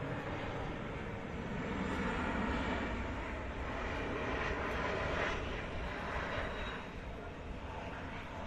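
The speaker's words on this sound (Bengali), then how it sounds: "এই বিমানটি চীনের ন্যানিং থেকে ঢাকায় অবতরণের জন্য এগিয়ে আসছে।" A JD Airlines Boeing 737 from Nanning approaching to land at Dhaka, its engines a faint, distant, steady roar that swells slightly midway and then eases off.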